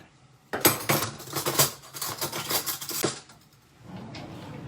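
A metal spoon whisks a vinegar and honey sauce in a bowl, scraping and clinking in quick uneven bursts for about three seconds before it settles to quieter rubbing.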